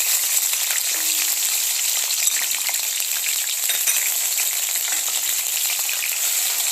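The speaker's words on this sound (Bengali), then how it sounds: "প্রথমে আলুটাকে একটু ভাজা করে নিচ্ছি।" Potatoes frying in hot oil in a pan give a steady, loud, dense sizzle that holds evenly throughout, close to the microphone.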